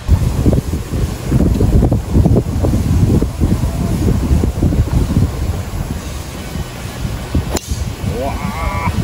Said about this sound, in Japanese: 風が上げております